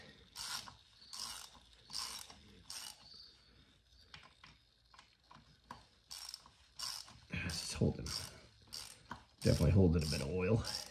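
A ratchet clicks in quick bursts while loosening a 12 millimeter bolt on a Honda CB450T motorcycle's oil filter assembly, with short pauses between strokes and louder clicking toward the end.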